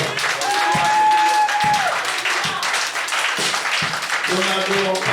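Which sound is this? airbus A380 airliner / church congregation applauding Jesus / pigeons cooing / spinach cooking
church congregation applauding Jesus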